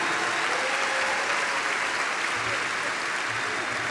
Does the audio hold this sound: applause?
yes